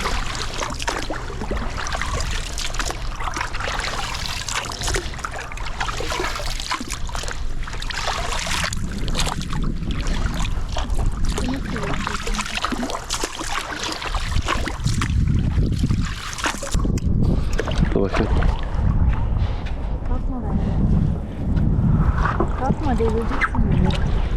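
Water sloshes and laps against a small boat as wind gusts across it in Norway, with people talking nearby over the rocking, splashing motion.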